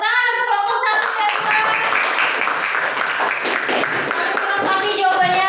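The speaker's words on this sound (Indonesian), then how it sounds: "tepuk tangan untuk kelompok satu ya" Classroom applause for a student group, a dense, steady patter of many hands clapping throughout, loud and close, with children's voices calling over the top.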